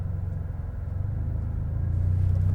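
A manual car idles and begins to roll as the clutch is eased out, its low engine rumble steady and close, then growing slightly heavier toward the end.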